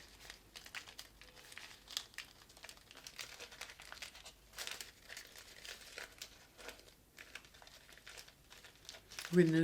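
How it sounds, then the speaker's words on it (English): Thin tissue paper pattern crinkles and tears softly as it is pulled away from Carrickmacross lace and organdy after the tacking threads are cut, a faint, close, continuous rustle with a louder crackle at the end. "So to remove the paper pattern, you cut the tacking threads between the design and the tissue"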